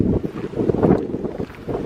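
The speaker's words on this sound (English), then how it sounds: "it's a bit windy if you can all just hear me" Strong wind gusts buffet a microphone outdoors at an abandoned paper mill, producing loud, continuous low rumbling with uneven surges throughout.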